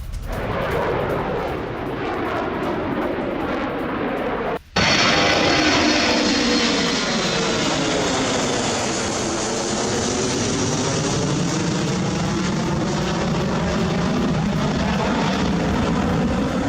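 A military E-6B Mercury airborne command aircraft flying overhead, a loud sustained jet engine roar that jumps in level after a brief cut and then sweeps slowly as it passes, no talk.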